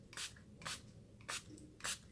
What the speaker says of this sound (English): So I spray it all over.